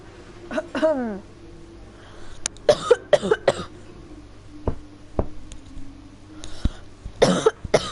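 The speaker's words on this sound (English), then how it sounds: "Oh, cough." A person coughs several times while playing an F1 career mode racing game at Bahrain. The coughs come in a few short, sharp bursts, spread unevenly between quieter stretches with faint game sounds underneath.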